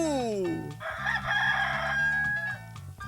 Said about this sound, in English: How about a rooster with a cock-a-doodle-doo?